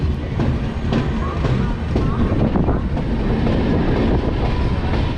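The Mandovi Express runs on the Konkan Railway after leaving Thane station in the monsoon, a loud, continuous rolling rumble with rhythmic clickety-clack of the wheels, wind buffeting and some background voices.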